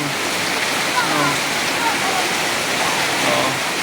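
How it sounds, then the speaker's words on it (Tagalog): Heavy rain pours down in a dense, steady hiss that fills the whole stretch, loud and close. "Ang lakas-lakas ng ulan dito."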